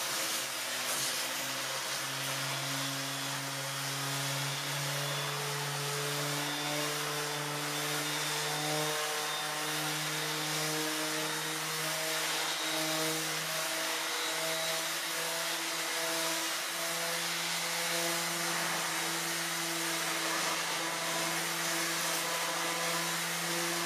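A power sander on an old tool box over 70 years old whirs continuously with a steady droning motor tone and gritty abrasive hiss, unchanging throughout.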